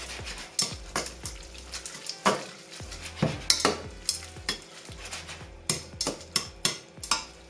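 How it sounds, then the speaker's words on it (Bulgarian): Hot spaghetti tipped into a pan of homemade tomato sauce and stirred, a close series of wet scraping, clattering stirs with light sizzling from the hot pan, regular strokes roughly every half second, with no talking. "И си изсипвам горещите спагети вътре"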